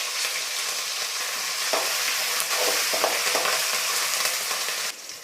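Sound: mustard seeds and chilies frying in hot oil

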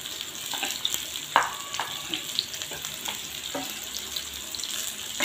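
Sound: okra frying and stirred in hot oil in a pan

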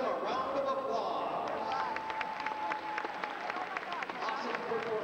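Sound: audience applause at a competition

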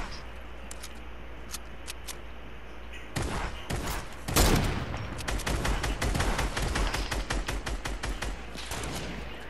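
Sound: gunfire in a video game firefight

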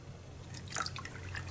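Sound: water flowing from an opened tap on a large barrel

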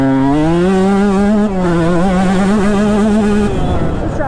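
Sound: KTM 150 two-stroke motocross bike engine at full throttle

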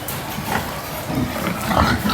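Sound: pigs on a farm

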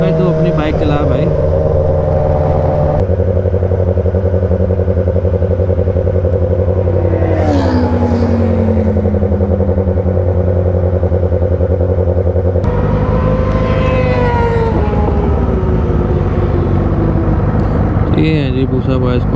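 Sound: Kawasaki Ninja ZX10R motorcycle riding in group ride

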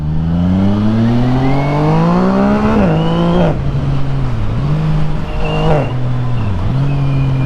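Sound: Yamaha MT-09 SP motorcycle with Tiger exhaust revving

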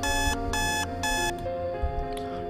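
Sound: iPhone alarm ringing

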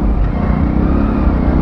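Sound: heavy traffic jam on a Delhi road, motorcycles and cars

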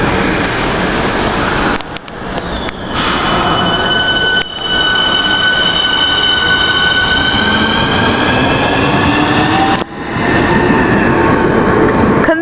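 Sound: Class 465 electric train departing London Victoria

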